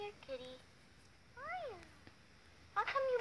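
A cat meows several times, with a short call near the start, a rising-falling meow in the middle and a louder cluster at the end, fairly close and standing out against a quiet room.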